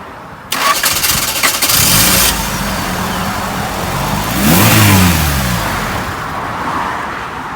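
A car engine cranks and catches with a rising rev, runs briefly and unevenly, then dies out, loud and close with no talk.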